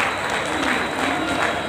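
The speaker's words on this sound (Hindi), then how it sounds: "एक बार बाबा साहब के लिए जोरदार तालियां साथियों" Loud, dense applause from a crowd of railway workers honours Baba Saheb at his 132nd birth anniversary celebration, a short continuous burst of clapping.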